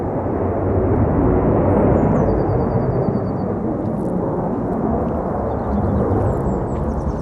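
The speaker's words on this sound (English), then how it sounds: "There's a helicopter over there as well." A steady low rumbling drone of a helicopter passing overhead, loud and continuous throughout, with faint bird chirps above it.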